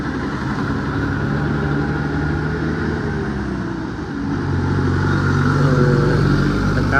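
Vehicles pass along a road in Vellakovil, Tirupur. Engines drone steadily and swell louder toward the end, with no talk.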